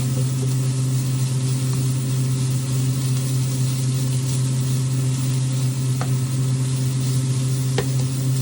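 Garlic frying in a pan for Thai pad kra pao sizzles steadily and evenly throughout over a low hum, with a couple of faint clicks of utensils and no voices.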